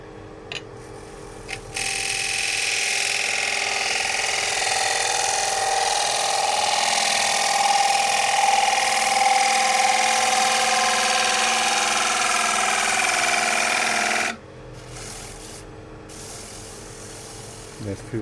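A woodturning gouge sharpened on a powered grinder while bowls are turned from chestnut, giving a steady, loud abrasive whine and hiss that runs for about twelve seconds, with short handling noises before it starts and after it stops.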